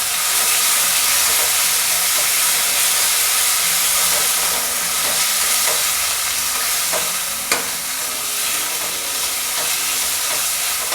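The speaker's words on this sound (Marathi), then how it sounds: "आता आपण तेल तापलेलं आहे, आपण हे वाटण लसूण, आलं, कोथिंबीर, पुदिना ही पेस्ट आहे तयार केलेली ती टाकूयात।" A ground paste of garlic, ginger, coriander and mint fries in hot oil for a spicy homestyle mutton curry, giving a loud, steady sizzle and hiss throughout with occasional stirring scrapes and small pops, no voices.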